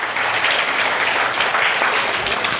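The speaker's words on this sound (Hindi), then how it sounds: "जोरदार तालियां हो जाए इनके लिए एक बार।" Loud, steady applause from the audience at the annual Anjuman-e-Rabiya jalsa gathering, a dense roar of many hands clapping together without pause and without talk.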